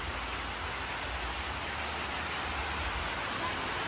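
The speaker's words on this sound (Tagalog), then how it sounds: "Maulan po ngayon guys sa Hinaguan." Steady rain falls outdoors in Hinaguan, a constant soft hiss with no breaks, fairly faint and even throughout, no one speaking.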